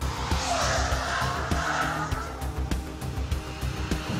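A 2013 Ford Focus ST driven hard on a race track: a loud engine roar with tire squeal and skidding noise as it corners, plus sharp clicks and bumps from inside the car, steady and close throughout.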